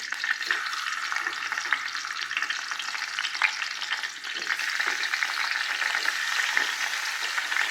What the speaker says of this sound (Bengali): তেল গরম হয়েছে টমেটোগুলো দিয়ে দেবো